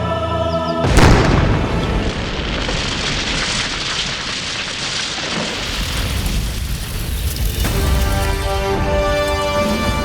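A sudden loud boom bursts out after a second of quiet, followed by a long roaring, crackling rumble that slowly fades.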